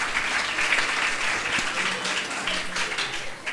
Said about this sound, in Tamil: எங்களுக்கு ஒரு பலத்த கைத்தட்டல்.